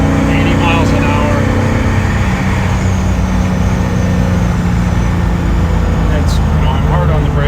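A 1956 Mercedes-Benz 300SL Gullwing engine roars steadily at about 75 to 80 miles an hour with road noise underneath, loud and continuous, while someone speaks over the drone.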